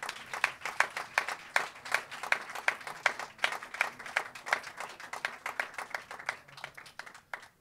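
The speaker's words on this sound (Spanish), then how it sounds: "un enorme aplauso para, esta gente que sonoriza esto" Audience applause at a live talk, rhythmic, evenly paced clapping in unison, fairly quiet and distant, with sharp regular beats throughout.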